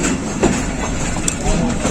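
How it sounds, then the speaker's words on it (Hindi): The 48 Down Rehman Baba Express of Pakistan Railways crossing the Wazirabad railway yard, heard as a steady rumble of rolling carriages with faint rail clatter and a few soft knocks, continuous and fairly loud throughout. "वजीराबाद रेलवे यार्ड क्रॉस कर रही है 48 डाउन"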